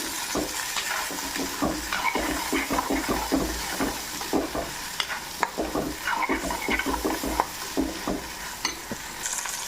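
Kanthari chillies sauté with rock salt in a pan for pickle, a loud close sizzle broken by frequent scraping and stirring knocks of a utensil against the pan.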